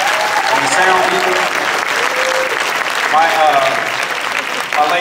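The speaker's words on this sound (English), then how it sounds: "Can we give a nice round of applause to our staff and the waiters and the waitresses and the sound people?" Sustained round of applause from a banquet audience honoring staff, waiters and sound crew, steady and dense throughout with a few voices mixed in.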